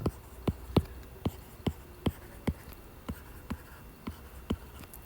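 Pen or pencil writing out math on paper, a series of distinct taps and short strokes at a steady, uneven rhythm, close and fairly quiet with no talking.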